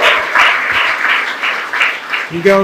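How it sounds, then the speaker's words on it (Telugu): A crowd clapping together in a steady rhythmic beat, loud and close, before a voice comes in at the very end. "గట్టిగా క్లాప్స్ కొట్టి"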